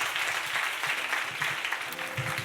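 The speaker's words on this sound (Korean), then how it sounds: "박수 한번 합시다" A church youth group claps together in a worship gathering, a dense, steady round of applause from a room of people, fairly close, with no talk over it.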